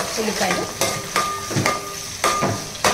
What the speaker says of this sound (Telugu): ఉల్లిపాయలు ఎంత ఎర్రగా వేగితే అంత టేస్ట్ బాగుంటుంది అనమాట